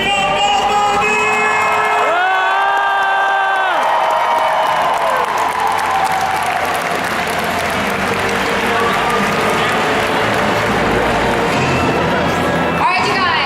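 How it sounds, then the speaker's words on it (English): A large convention crowd claps and cheers loudly for a Bumblebee cosplay at a championship contest, dense sustained applause with whoops and shouts, a host's voice audible over it at the start. "Clap and scream for Bumblebee!"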